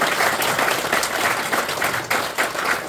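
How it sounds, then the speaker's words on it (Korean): A school gathering of parents and teachers breaks into sustained applause for the graduates, a dense wash of clapping from a sizable crowd with no speech over it. "우리 애써준 우리 졸업생들 큰 박수로 고마움을 전해드리겠습니다"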